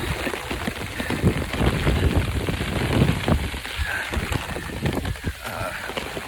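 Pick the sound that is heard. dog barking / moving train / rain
rain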